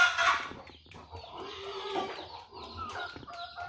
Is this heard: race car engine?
no